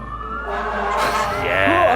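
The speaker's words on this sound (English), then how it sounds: "Also a fire truck." Recorded American fire truck siren sounding steadily, a wailing tone rising and sweeping over about two seconds with traffic rumble beneath, fairly loud and close.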